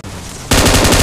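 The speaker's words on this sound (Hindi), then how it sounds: "गोलियां चल रही है इनके पास" Rapid automatic gunfire in a battle royale video game: after half a second of quieter background noise, loud, sustained bursts of fast repeating shots take over and fill the rest of the moment.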